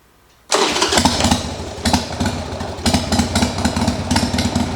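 A repaired motorcycle engine starts abruptly after a brief silence, then runs loud and close without choke with an uneven, throbbing idle and a few revs.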